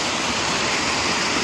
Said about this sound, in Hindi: ये देखें डैम का पानी किस तरीके से गिर रहा है